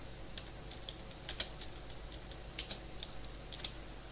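Quiet tapping on a computer keyboard during a basic PowerPoint lesson, scattered light key clicks over a steady background hiss, faint and fairly close, with no talk.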